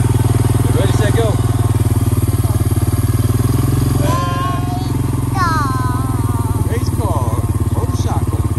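A motorcycle engine runs loud and close throughout, holding a steady heavy drone with slight revving, while brief voices come and go over it.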